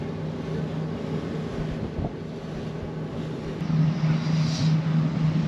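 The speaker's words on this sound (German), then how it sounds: "Auf jeden Fall ist es hier ganz schön windig." Strong wind buffets a microphone aboard a boat on the water in Istanbul, a steady loud rumbling roar with constant low engine-like drone and no speech.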